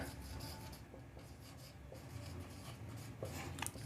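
Chalk or marker scratching across a board during a Hindi-language English grammar lesson, faint irregular strokes and rubbing with short pauses, quiet and alone without talk.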